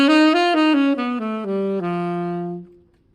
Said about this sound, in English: So that would be a concert F whole tone scale.